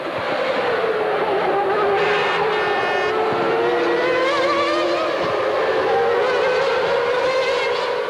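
Formula 1 cars at the 1996 German Grand Prix scream past in a continuous high-pitched engine wail, pitch sliding up and down as two cars push hard, loud and steady throughout.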